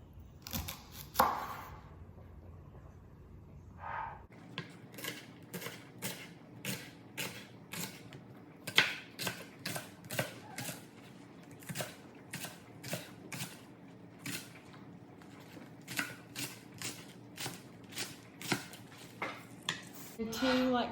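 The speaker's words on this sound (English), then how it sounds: "Okay, so now I'm going to chop up 4 green onions." Green onions chopped on a cutting board with a knife, a fast run of sharp, evenly spaced taps close by, after a few louder knocks at the start.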